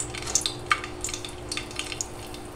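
Dried red chillies and two green chillies frying in a pan, a soft steady sizzle broken by small crackles and pops, with a low hum beneath.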